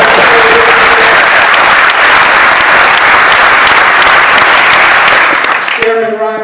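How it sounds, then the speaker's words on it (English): Loud, sustained applause from an audience at a speech in the Solvay-Geddes Community Youth Center, thick clapping that rolls on for several seconds before tapering off, with a voice coming in at the end. "Let's give him a round of applause."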